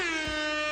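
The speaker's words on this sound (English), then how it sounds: "Claw with the air horn." An air horn sound effect blares a single sustained, loud, brassy tone for the whole moment, alone with no talk.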